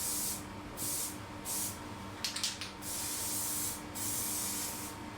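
A spray gun lays a primer coat onto a Honda CRM250AR motorcycle frame in a series of steady hissing bursts, each a second or so long, separated by short pauses and a brief clatter, heard close up.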